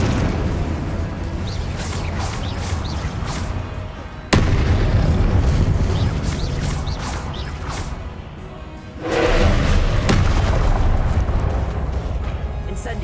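Loud Incendio and Confringo spell blasts erupt in Hogwarts Legacy: heavy whooshing booms surge in broad waves, with a sharp crash near the start of the second wave and another swelling blast toward the end.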